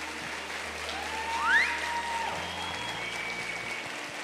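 A church congregation applauds with a continuous wash of clapping from many hands, filling the room at moderate level, with a brief rising whistle cutting through partway and murmured voices underneath.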